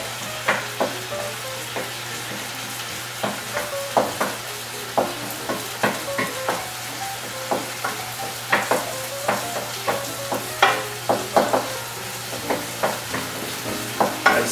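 Egg being stirred and scrambled in a hot pan with noodles for pad thai, a steady sizzle under repeated sharp scraping strokes at a regular rhythm, close and alone.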